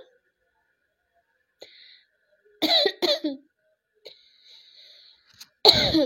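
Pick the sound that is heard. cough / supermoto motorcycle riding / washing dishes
cough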